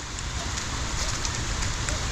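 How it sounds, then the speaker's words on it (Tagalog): Heavy rain pours steadily on a farm where cassava is being planted, a dense, even hiss with faint scattered patters throughout and no one speaking. "Lakas na naman ulan."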